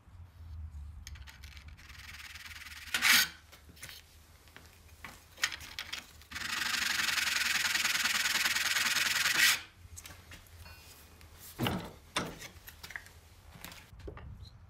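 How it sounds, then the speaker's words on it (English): Hand file cutting metal while making a kerfing tool, short scraping strokes, then one long continuous rasp of several seconds, then a few more brief strokes, close and fairly loud. "I've grabbed this file,"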